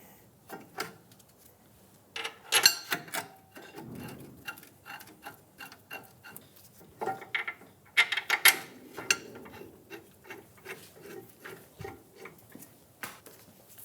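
Caliper bracket bolts on a 2007-2017 Ford Expedition rear brake are snugged down with a hand tool, giving quiet, irregular bursts of close mechanical clicking and ratcheting separated by brief pauses.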